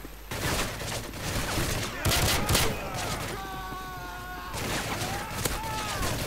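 Rapid bursts of gunfire in a shooter video game against bots crackle loudly throughout, shot after shot in quick succession, while players talk over the action.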